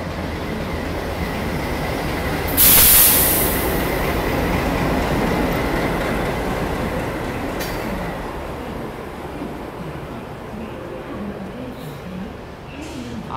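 An ALCO diesel locomotive shunts the Ajmer Shatabdi Express, making a steady loud rumble of rolling stock with a brief high squeal near the start and a continuous engine drone, with voices faintly mixed in.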